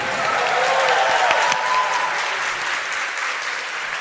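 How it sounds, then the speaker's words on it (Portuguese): A church congregation at a Sunday Mass applauds with dense, sustained clapping and a few cheers, loud and close throughout, slowly easing off toward the end. "Dê uma salva de palmas para ele, gente."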